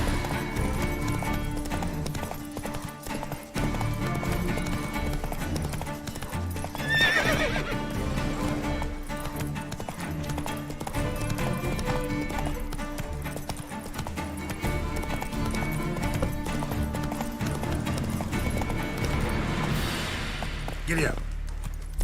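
Horse hooves gallop steadily in The Witcher 3, with a loud neigh near the middle, continuous clip-clop under game sounds and voices talking over it.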